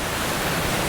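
High waves churn in Manila Bay during a typhoon, a broad, steady roaring rush of water close by, with no voices, lasting about a second.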